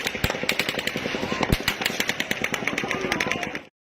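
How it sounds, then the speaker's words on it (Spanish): Rapid automatic gunfire from the Las Vegas shooting crackles in dense, fast bursts, loud and echoing, sustained for several seconds before cutting off abruptly. "You can hear the fucking gunshots"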